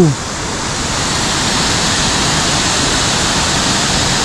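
A powerful waterfall swollen by rainy-season flow in Zamboanga del Norte, a loud continuous roar of rushing water that fills the scene evenly, with a brief voice at the very start.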